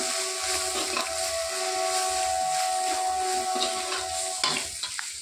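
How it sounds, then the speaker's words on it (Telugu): Ginger garlic paste and turmeric frying in oil, giving a steady, close hiss and sizzle with a few faint stirring sounds near the end. "కలిపాక ఈ ఆయిల్లో బాగా ఫ్రై అవ్వనియాలి అల్లం వెల్లుల్లి పేస్ట్ ఇంకా పసుపుని."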